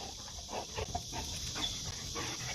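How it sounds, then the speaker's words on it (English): A dog moves close by in a home recording setting, producing soft snuffling and faint whimpering sounds through steady background noise, with no clear loud barks. "There's a dog here that wants to join me here."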